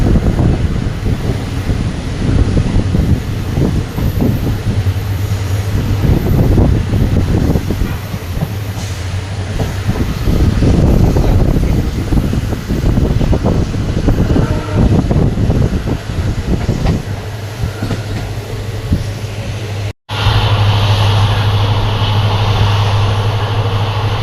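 A WDP4D diesel locomotive hauls a Shornur–Thrissur passenger train, steady loud rumble and wheel clatter with wind buffeting throughout, a brief cut near the end before the roar resumes.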